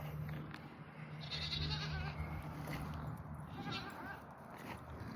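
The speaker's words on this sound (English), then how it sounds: "Look at all these little goats." Several young goats bleat on a farm during feeding time, their wavering calls rising now and then over a steady background of other livestock noise and shuffling at moderate distance.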